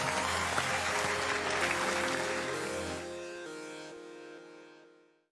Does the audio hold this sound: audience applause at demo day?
yes